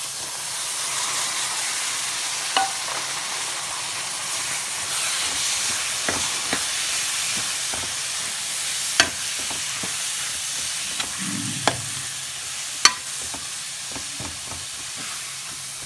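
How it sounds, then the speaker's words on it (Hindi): Finely chopped tomato frying in a pan for palak paneer, giving a steady broad hiss of sizzling with a few faint ticks of a utensil against the pan. "अब हम इसमें बारीक कटा हुआ टमाटर डाल देंगे"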